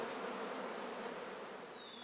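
Bees buzzing steadily around hives in a coffee farm in the highlands of Chiapas, a dense continuous hum of many insects, fairly faint, with a single bee droning past nearby.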